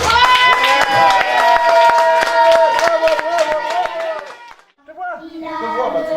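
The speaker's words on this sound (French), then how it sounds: "La tradition veut qu'on s'applaudisse." Small film crew applauding themselves after the final shot of a school short-film shoot, a burst of close, sharp claps with voices cheering over it, fading out into brief speech at the end.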